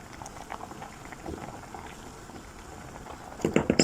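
Pot of water with pasta and carrots at a rolling boil, a faint continuous bubbling and popping that turns louder near the end as sharp clinks and rattles break in, with no talk over it.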